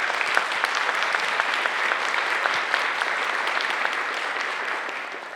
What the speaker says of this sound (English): join me in celebrating your students in this long-awaited occasion with a round of applause